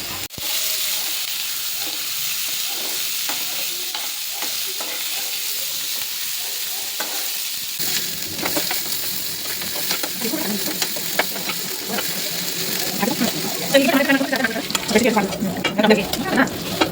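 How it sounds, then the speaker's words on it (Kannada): Green chilies, greens and tomato fry in a pan for a home-cooked festival meal, giving a steady close sizzle with scraping stirs and clinks that grow busier and louder toward the end. "ಫಸ್ಟ್ ಮೆಣಸಿನ್ಕಾಯಿ ಅದು ಸೊಪ್ಪು ಎಲ್ಲ ಫ್ರೈ ಮಾಡ್ಕೊಂಡು ಆದ್ಮೇಲೆ ಟಮಾಟ ಲಾಸ್ಟಿಗೆ ಟಮಾಟ ಫ್ರೈ ಮಾಡ್ಕೋರಿ"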